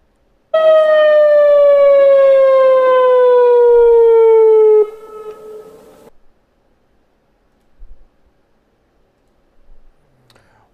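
A newly installed civil defense siren at Oroville Dam sounds during a test, holding one loud steady wailing tone that slides slowly downward for about four seconds, then drops to a softer fading tail, leaving near silence with a few faint knocks.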